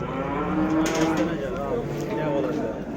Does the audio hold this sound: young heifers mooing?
yes